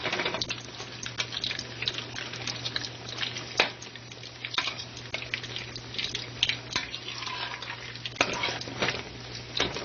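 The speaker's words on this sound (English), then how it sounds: "you just want to keep turning them over and over and over" Chicken dumplings fry over medium heat in a pan, a steady crackling sizzle with irregular clinks and scrapes as they are turned again and again, close and continuous throughout.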